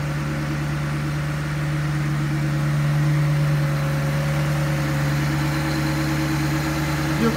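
A 2005 Cadillac XLR with a 4.6-liter Northstar V8 idles at a salvage yard, a steady close-up engine hum with a faint rise in revs partway through and no talking.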